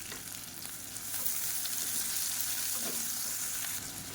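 Onions and slit green chillies sautéing with salt in a pan for idli sambar, a steady close sizzle that swells slightly and carries on with faint stirring scrapes.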